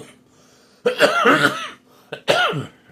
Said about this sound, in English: it's my smoker's cough